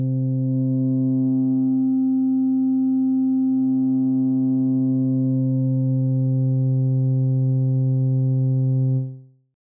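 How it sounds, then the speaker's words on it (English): A steady, buzzy drone from Ableton's Drift synth, with oscillators driving into a closed-down filter, holds one low pitch with a slight swell midway, then cuts off abruptly near the end. "you can hear the oscillators driving into the filter"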